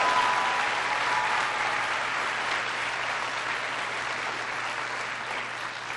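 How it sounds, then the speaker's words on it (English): Sustained applause from a large crowd, a steady dense wash of clapping lasting throughout without letting up. "Give your teachers a big round of applause."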